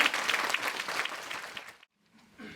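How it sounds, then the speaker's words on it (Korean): Audience applause at an educational information session as teachers come up on stage, a dense burst of clapping that fades out quickly, followed by a faint voice. "큰 박수로 맞이해 주시기 부탁드립니다."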